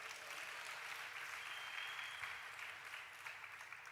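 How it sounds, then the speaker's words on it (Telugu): A church congregation clapping together at a prayer gathering, a sustained dense wash of applause at moderate level that holds steady for the whole stretch, with no voices over it. "చప్పట్లు కొట్టండి"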